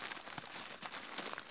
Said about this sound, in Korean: 요렇게 이제 비닐을 이렇게 찢어줘야 돼요.